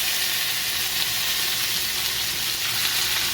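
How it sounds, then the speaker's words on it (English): Teriyaki steak pieces fry in cooking oil in a skillet, giving a steady, close, loud sizzle that holds without a break, with no talking. "put a little bit of cooking oil into the bottom of a skillet and drop these in just a couple of pieces at a time"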